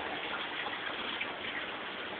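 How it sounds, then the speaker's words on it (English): Water from an aquaponics fish tank, drawn from the tank bottom with its solids, pouring steadily into a swirl filter, a continuous close gushing splash with no pauses. "it sucks the solids from the bottom of the tank and dumps the water out over here on the right into the swirl filter"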